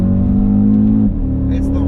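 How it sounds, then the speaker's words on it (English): An Audi RS Q3 engine revs hard while driving, a loud sustained drone that drops in pitch midway before holding steady again. "it just revs and revs and revs and revs."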